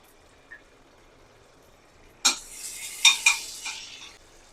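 Ginger-garlic paste dropped into hot oil, bursting into a sudden loud sizzle after a quiet moment, then crackling with a few sharp spits before settling, heard up close.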